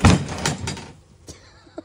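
A heavy door falls and slams down with a loud close thud, followed by rumbling decay and a couple of smaller knocks as it settles, with faint voices nearby.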